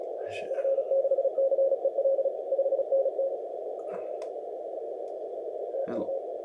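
A steady 10-meter CW radio tone sounds throughout, keyed in short Morse code bursts near the start as a station calls, with faint clicks and a brief voice burst on top.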